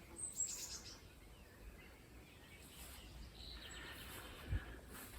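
Small birds chirp and tweet in a quiet rural setting, brief high calls scattered across the moment, faint and somewhat distant over soft ambient hiss.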